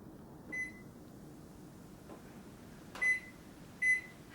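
Microwave oven buttons beep as a kitchen timer is set: three short, high electronic beeps spaced apart, fairly faint and alone, with a soft press click between them.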